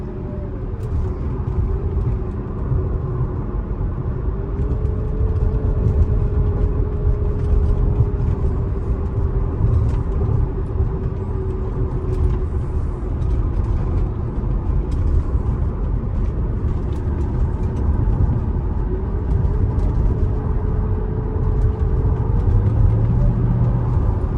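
A 2006 Mercedes-Benz SL500 with a coilover conversion drives on a road, a steady engine drone and road rumble heard from inside the car, continuous and fairly loud throughout.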